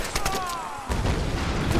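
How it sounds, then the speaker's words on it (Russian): Explosions and gunfire in the Tomb Raider video game, a fast string of sharp cracks followed by a deeper booming rumble, loud and close, with a voice briefly heard. "Все взрывается вокруг."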